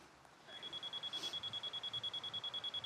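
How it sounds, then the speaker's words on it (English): Close steady beeping from a leveling tool signalling matching post height while framing a large greenhouse, a rapid regular pulse of high electronic tones continuing without pause over faint outdoor background. "I can put it here and it'll beep when this height of this one is exactly the"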